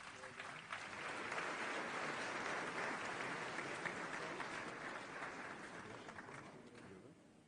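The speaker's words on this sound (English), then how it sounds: "Please give him a warm round of applause." A warm round of applause rises from the audience at a CARICOM heads-of-government meeting for Antigua and Barbuda's prime minister. The dense clapping swells, holds steady, then slowly tapers off.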